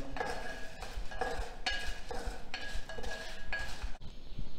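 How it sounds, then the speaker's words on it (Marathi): Two or three dry red chillies dry-roasted in a pan, with repeated clinks and scrapes of a utensil against the metal in a loose rhythm, close and fairly quiet. "सुकी मिरची 2 ते 3 सुकी मिरची भाजून घ्यायची आपल्याला"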